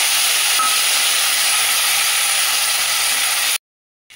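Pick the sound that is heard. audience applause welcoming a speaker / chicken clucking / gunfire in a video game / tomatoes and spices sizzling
tomatoes and spices sizzling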